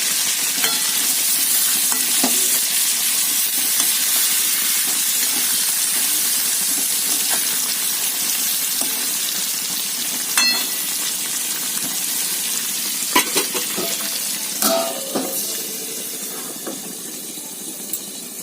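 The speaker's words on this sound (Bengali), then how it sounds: "একটু ছাপা চাপা দিয়ে দিলেই একেবারে সব কটা বেগুন একসঙ্গে ভাজা হয়ে যাবে" Brinjals frying together in oil in a covered pan, giving a steady, dense sizzle that runs throughout, with occasional sharper spits and pops in the second half.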